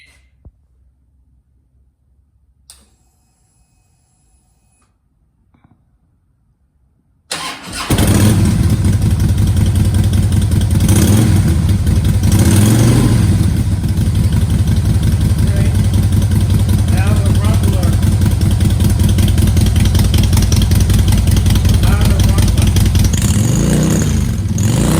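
A 2010 Harley-Davidson Fat Bob with an aftermarket exhaust is quiet for several seconds, then starts with a sharp burst and settles into a loud, loping, rumbling idle, with a couple of light blips later on.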